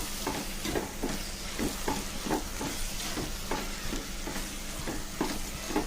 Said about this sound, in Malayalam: പാത്രത്തിൽ നമ്മൾ എടുത്ത് വെച്ച മുളക് പൊടി മല്ലിപ്പൊടി കർമ്മസാലപ്പൊടി അങ്ങനത്തെ പൊടികളെല്ലാം കൂടി അതിൽ ചേർക്കുക അതിൻ്റെ ആ പച്ച കുത്ത് പോണ വരെ ഒന്ന് നല്ലോണം ഇളക്കണം